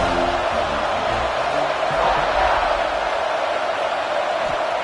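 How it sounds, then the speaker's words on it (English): A stadium crowd roars during a college football game, a broad sustained wash of many voices at steady loudness throughout, with no single voice standing out. "The roar of the crowd trying to fuel this defense to keep them pinned in their own end."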